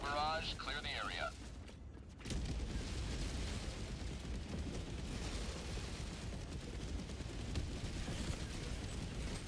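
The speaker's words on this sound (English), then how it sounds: "Requesting orbital. Orbital inbound. Firing orbital barrage. Clear the area." In Helldivers 2, an orbital barrage strike sets off a dense, continuous rumble of overlapping explosions, heavy and sustained after a brief game voice callout and a short lull.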